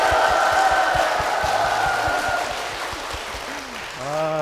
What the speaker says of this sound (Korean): 뜨거운 박수와 함성을 시작을 했습니다